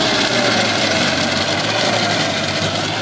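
A New Holland Simba 30 HP tractor engine pulls in low second gear while digging through a field, giving a steady, loud, continuous drone with a low rumble.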